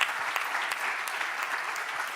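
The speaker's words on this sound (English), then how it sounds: "Yes, we can applaud for that film" Audience at a panel discussion on women's care in noncommunicable diseases applauds after a film screening, with even, continuous clapping from a mid-sized crowd and no talking over it.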